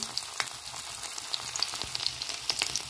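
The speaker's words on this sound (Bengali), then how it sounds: "তেলের মধ্যে দিয়ে দেবো আদা কুচি, কাঁচা লঙ্কা কুচি" Crushed ginger and chopped green chilli sizzle in hot white oil in a heated kadai, a steady close crackle with scattered sharp pops throughout.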